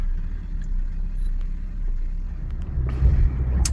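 A shanty boat's engine idles as it warms up, a steady low rumble that holds even and close for a few seconds, rising slightly near the end.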